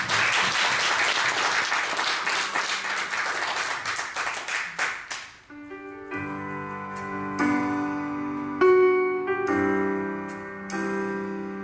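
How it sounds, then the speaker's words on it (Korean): A church congregation claps in thanks during a Sunday service, a dense wash of hands for about five seconds that tapers off into music, sustained tones and chords that carry the rest. "우리 주님께 한번 감사의 박수 올려드리고 찬양하겠습니다"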